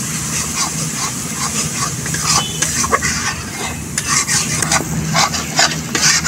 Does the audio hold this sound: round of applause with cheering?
no